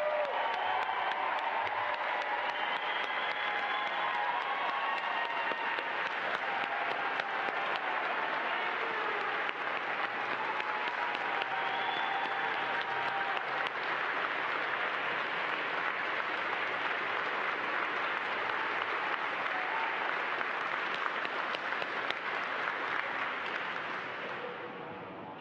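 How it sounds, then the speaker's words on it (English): A large crowd applauds steadily and loudly for a long stretch at a NASA astronaut candidate announcement, dense clapping with a few cheers mixed in, fading slightly at the very end. "Let's give them a big round of applause."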